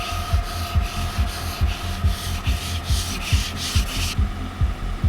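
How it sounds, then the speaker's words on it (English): Rhythmic scraping of ice off a car windshield, about a dozen short hard strokes in steady succession, close and fairly loud with no talking. "That's the worst sound in the morning. Scrape, scrape, scrape, scrape."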